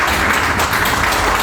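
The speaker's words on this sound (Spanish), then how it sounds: "un fuerte aplauso para ella" Applause from an audience at a book presentation ceremony, a brief dense wash of many hands clapping at once, loud and steady without pause.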